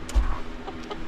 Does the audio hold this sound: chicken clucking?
yes